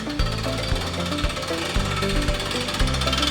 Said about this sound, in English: So whenever you're ready, Richard, go ahead and start cranking, and I'm just gonna lift this up.